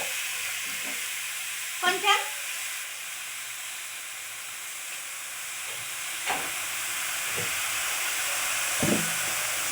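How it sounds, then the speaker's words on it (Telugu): Chicken boils in a pot on the stove with a steady steamy hiss, broken by a few light clinks and knocks of utensils. "ఇప్పుడు చికెన్ వేసి ఉడకబెట్టుకున్నాము"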